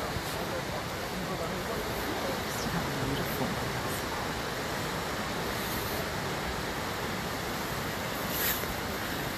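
A river flows with a steady, broad rushing wash that stays constant and fairly loud throughout, with faint wind buffeting mixed in outdoors.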